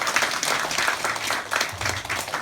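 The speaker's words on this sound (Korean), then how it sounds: "오늘 수고한 학생들을 위해서 박수 부탁드리겠습니다." Audience applause at a girls' high school admissions information session, clapping for the students: dense, steady crowd clapping that stays loud and even throughout.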